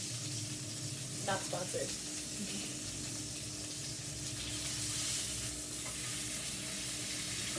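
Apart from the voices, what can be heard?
deglazing a hot pan with liquid, sizzling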